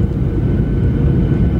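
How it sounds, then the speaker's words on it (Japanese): Steady low roar inside the cabin of a Skymark airliner descending toward Haneda, a constant rumbling engine and airflow drone with no voices, close and continuous throughout. "飛行機は順調に高度を落とし、"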